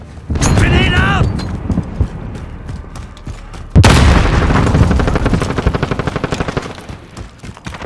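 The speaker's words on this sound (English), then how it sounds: "Grenade out!" A grenade blast in Call of Duty: Modern Warfare Headquarters multiplayer, a sudden loud boom midway that cuts into ongoing gunfire and clatter, followed by a dense stretch of rapid automatic shots; a voice is heard early on.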